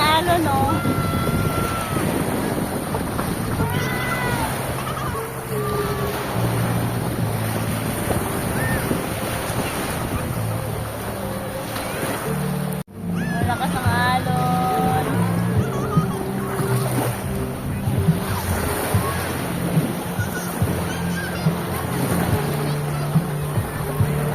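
Strong waves break at a beach, a continuous roar of surf mixed with wind buffeting the microphone, with people talking over it throughout.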